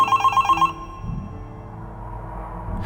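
A telephone rings inside a phone box in a Half-Life 2 mod, a rapid electronic trill of several pulses that cuts off abruptly, followed by a low hum and faint handling noise.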